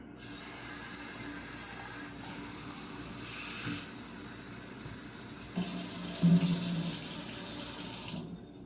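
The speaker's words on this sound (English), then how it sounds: "we are going to fill the beaker with some tap water" Tap water gushes from a lab faucet into a beaker, a steady hissing splash that stays close and continuous for several seconds, rising slightly as the beaker fills before cutting off.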